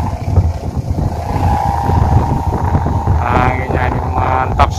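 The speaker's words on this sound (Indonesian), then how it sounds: "Anginnya ini mantap sekali." Strong wind blows across an open outdoor field where a kite is being flown, a steady loud rumbling buffet on the microphone with a brief voice near the end.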